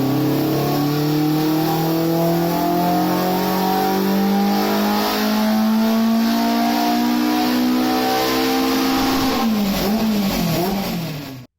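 A tuned Caterham's engine revving hard on a dyno, a loud continuous climbing roar as the pitch rises steadily, then a brief drop and stutter as the throttle comes off at the end.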